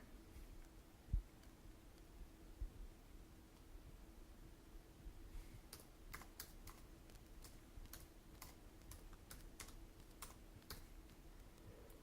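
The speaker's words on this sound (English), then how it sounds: "you'd type in the sire" Typing on a computer keyboard, soft scattered keystrokes at first, then a faint run of quick key clicks over a low steady hum.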